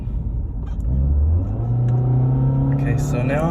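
A car engine accelerates at full throttle, heard from inside on a road curve, rising from a low rumble into a steady loud drone with climbing pitch while the driver keeps talking.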